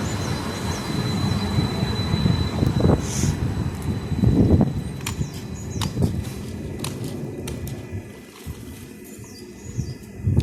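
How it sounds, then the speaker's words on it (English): A London Tramlink tram rolls into Blackhorse Lane stop steadily with a loud rumble, wheels squealing and high metallic screeches, then slows and quiets near the end. "the next tram to turn up is going to be the 1014 London Tramlink service to Wimbledon"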